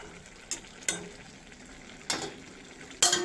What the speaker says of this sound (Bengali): আবার ঘুরি দিব